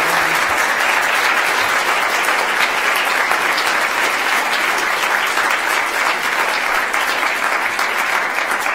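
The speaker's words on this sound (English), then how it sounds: "Can we give him a warm round of applause?" A Grove City college audience gives a guest speaker a warm round of applause. The clapping is full and sustained, holding at an even level the whole way through.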